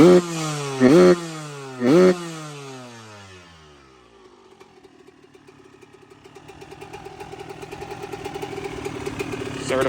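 A Yamaha YZ125 two-stroke dirt bike engine blips twice with sharp loud revs, then drops to a ragged, popping idle that slowly builds in a fast crackling rhythm, close by.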